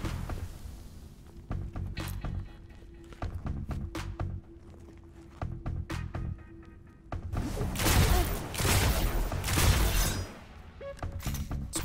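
Zen Meteor rounds fired in Destiny at a Juggernaut shield, heard as repeated sharp gunfire bursts with thuds and metallic clatter, building into a louder dense volley near the end.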